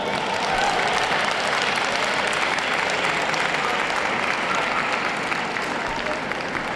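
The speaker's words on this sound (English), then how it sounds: "Big round of applause, ladies and gentlemen," Sustained, dense audience applause fills an indoor arena at a dog show's utility group judging, steady and loud throughout with no clear voices on top.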